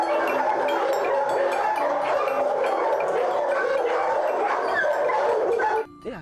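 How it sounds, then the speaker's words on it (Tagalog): Many dogs bark continuously at a dog training camp, with overlapping loud yaps and barks forming a dense chorus that cuts off abruptly at the end. "may halos 30 aso na sinasanay"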